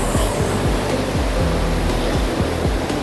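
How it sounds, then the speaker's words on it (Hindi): A fast-flowing, very cold snowmelt mountain stream with white water rushes in a dense, continuous roar close by, with no voices over it. "बहुत तेज नाला आ रहा"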